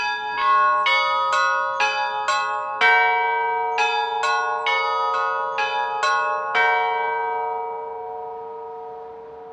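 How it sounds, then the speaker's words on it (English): Two dissonant bells in the Holy Trinity Cathedral bell tower in San Francisco ring about a dozen clear, evenly paced strikes in a musical phrase, each tone ringing on and then fading to a long decay at the end. "You can actually take advantage of the dissonant relationship between these two bells by spacing them out as part of a larger and logical musical phrase like this."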